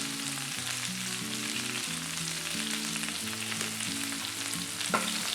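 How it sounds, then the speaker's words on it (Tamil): Onion sautés in a pan, a soft, steady frying hiss with faint stirring, quiet and partly masked by background music, with no speech. "ஸோ வெங்காயம் வந்து நம்ம நல்லா வதக்கணும்."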